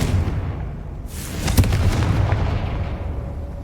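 The Confringo explosion spell in Hogwarts Legacy fires as a loud, booming blast with a rumbling tail, set against low, steady game ambience.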